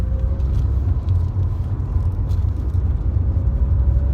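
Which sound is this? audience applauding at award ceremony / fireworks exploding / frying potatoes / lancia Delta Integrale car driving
lancia Delta Integrale car driving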